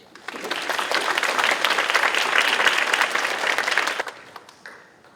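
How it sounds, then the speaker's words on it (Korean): Audience applause after a keynote lecture: the clapping swells quickly, holds as a full, close crowd sound for several seconds, then thins to a few scattered claps and fades. "박수 주시죠"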